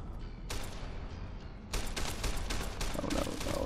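Gunfire in the video game Fallout New Vegas, with a sharp blast followed a second later by a louder burst of rapid repeated shots over a rumbling game background. No voices.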